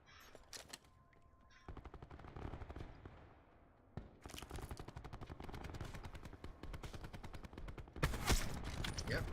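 Sniper shots and rapid automatic gunfire in a competitive first-person shooter esports grand final match, dense bursts of repeated shots with brief pauses, loud and close.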